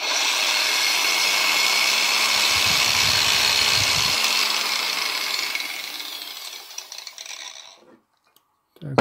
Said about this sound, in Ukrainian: що це у нас болгарка. І я включаю її.